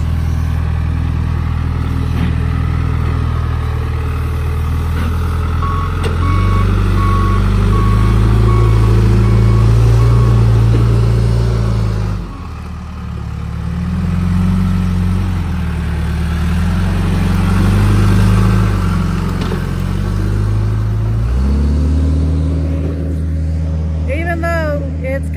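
An older backhoe's diesel engine runs close by for the whole stretch, its steady low drone shifting in pitch and load as it works, with a brief drop in the middle and a voice talking briefly near the end; no clear reversing beeps stand out.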